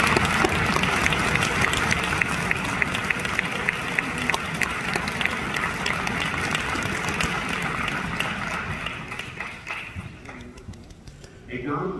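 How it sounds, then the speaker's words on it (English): Audience at a regional all-region student concert applauds steadily with dense clapping for about ten seconds, then the applause thins out and fades near the end. "Students, let's give them a round of applause."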